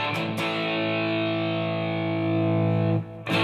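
Electric guitar run through the Line 6 HX Stomp's Brit Plexi Jump amp model, a jumpered Plexi-style tone with extra gain: one sustained distorted chord rings loud and steady for about three seconds, a short pick scrape at the start and a fresh strum near the end.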